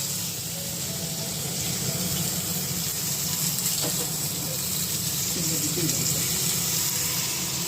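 Three pieces of food fry in a pan in a home kitchen, making a steady, fairly loud sizzling hiss with occasional faint clatter, and a voice can be heard talking softly underneath.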